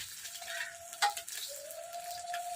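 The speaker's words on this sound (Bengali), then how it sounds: "বাবা চটপট করে ফোটে" Fish, likely shol or boal for a Bengali curry, frying in hot oil with a steady soft sizzle and one sharp sputtering pop midway. A faint tonal whine runs alongside.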